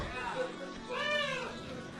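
A cat meows in the middle of the stretch, rising and falling over continuous human talk and crowd noise in a comedy show setting.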